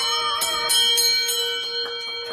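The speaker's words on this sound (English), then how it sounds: "And I get to ring the bell." A bell rung in a few strikes, bright metallic tones ringing out and overlapping with a long sustained decay, close and fairly loud with no talk.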